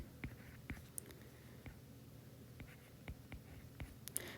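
Handwriting on paper while working an economics practice problem, heard as faint, scattered scratchy pen strokes with short pauses between them and no talking.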